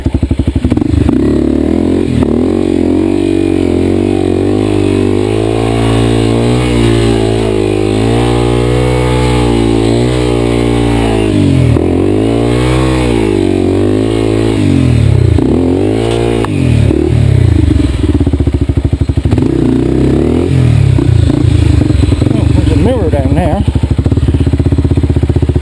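A Honda Wave motorcycle engine revs and labours up and down on a muddy mountain trail in the wet season, loud and close, pitch swinging with throttle changes, while a rider talks over it at times.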